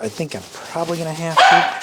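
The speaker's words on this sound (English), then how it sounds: "that was my dog barking" A dog barks near the end of a short stretch, a sharp loud yelp breaking in over someone speaking indoors at a turntable repair bench.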